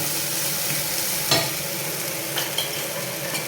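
Okra fries in a pan with salt, a continuous nearby sizzle punctuated by a few scraping stirs and light utensil knocks, heard alone without voices.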